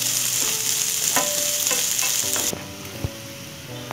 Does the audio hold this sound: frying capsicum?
yes